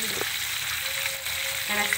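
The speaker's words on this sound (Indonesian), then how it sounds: "lanjut kita goreng ikan asin" Salted fish frying in a pan gives a steady, close, continuous sizzle with a brief stirring scrape near the start and again near the end, and no one speaks.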